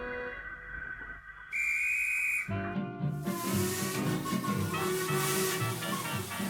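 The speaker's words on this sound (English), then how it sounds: "At last, the guard blew his whistle and they set off up the line." A guard's shrill whistle sounds briefly, then a loud hissing, chuffing steam locomotive roar with sustained tones takes over and continues as the train sets off.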